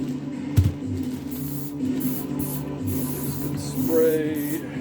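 Aerosol spray can hissing onto a pair of Dr. Martens boots in steady bursts, close to the mic, with a short knock near the start and a brief rustle toward the end.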